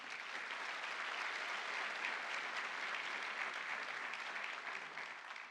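Applause in a hall at a ceremony installing the head of Brazil's Advocacia-Geral da União, a steady, even roar of many hands clapping, heard faint and distant for the whole stretch.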